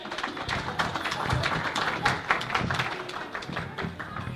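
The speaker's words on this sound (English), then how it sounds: "Please give a round of applause to the girls." A crowd claps in a scattered, moderately loud burst that keeps going, with brief voices mixed in, at an Acholi community event in Victoria.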